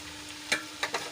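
Pulao rice seasoned with turmeric, pulao masala and lemon juice is stirred in a pan, giving three quick, soft scrapes over a faint sizzle.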